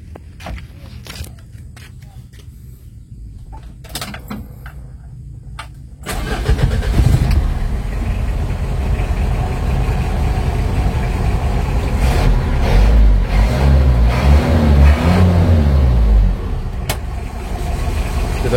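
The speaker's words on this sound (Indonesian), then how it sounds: "Oke, kita coba starter mobilnya." A 2011 Mitsubishi L300 pickup cranks briefly and fires up, settling into a loud, steady idle close by before rising in a rev and dropping back.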